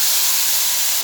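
Spice paste hits hot oil with a bay leaf and chopped onion in the pan, giving a loud, steady close-up sizzle with no pauses.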